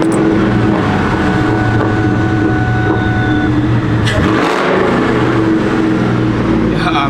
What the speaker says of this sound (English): But of course, you guys got to hear the start up.